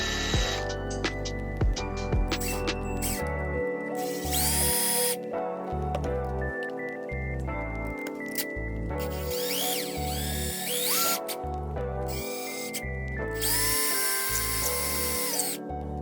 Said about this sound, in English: I'm just going to drill through and then put this in there